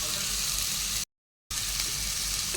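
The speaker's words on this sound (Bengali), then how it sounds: "লঙ্কার গুঁড়ো, হলুদ গুঁড়োটা কষিয়ে নিচ্ছি" Ginger, garlic, tomato, chili powder and turmeric sizzle steadily in a hot pan, with a brief break of total silence midway before the frying resumes.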